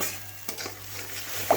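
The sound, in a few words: onion frying in pan for prawn posto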